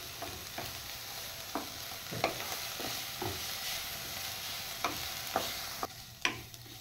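Seven or eight cloves of grated garlic fry in a pan, giving a steady sizzle broken by scattered sharp taps and scrapes of a spoon being stirred, with no talking.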